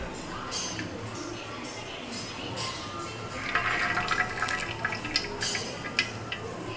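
Water bubbles and churns steadily in a pot, a soft rolling gurgle with occasional louder pops.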